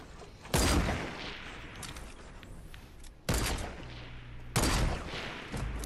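Fortnite gunfire: three loud, close blasts, each trailing off into a reverberant tail, spaced a couple of seconds apart over game noise, with no talking.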